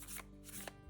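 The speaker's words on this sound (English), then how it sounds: "the overhand shuffle, where you take your hand wide, you pick up a section, and you slowly place a few cards at a time" Tarot cards riffled through an overhand shuffle, small packets dropped from hand to hand in a quick papery patter with a few soft slaps, close up and on their own.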